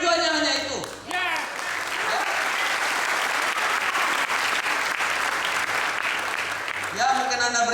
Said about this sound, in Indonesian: mungkin Anda beri tepuk tangan sekali lagi